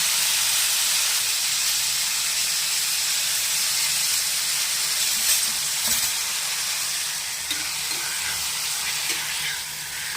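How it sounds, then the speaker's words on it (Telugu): Onion and tomato fry in oil for a dried prawn and brinjal curry, heard as a loud, continuous hissing sizzle that stays close and even, with only faint scattered taps. "కొంచెం వేగనివ్వాలి."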